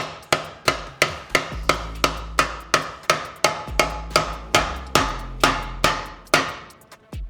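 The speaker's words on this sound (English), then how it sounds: "We can stretch in the stump here just simply by hammering." Steady, evenly spaced hammer blows on sheet metal over a wooden stump, about two per second, sharp metallic strikes with a dull thud beneath, close and alone.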